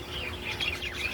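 Parakeets chirping in quick, bright tweets over a steady background hum, a short close burst of small-bird calls.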